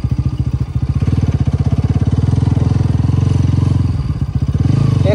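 An RS 200 motorcycle engine thrums steadily and loudly up close as the bike rides a rough, bumpy forest road, its even rapid pulsing broken by brief clattering jolts near the end.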